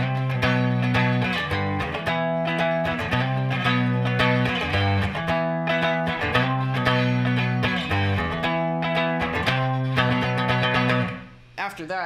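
A clean electric guitar plays a repeating chordal riff with bright, ringing notes at steady volume, ending with a brief fade.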